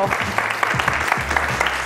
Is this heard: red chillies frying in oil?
no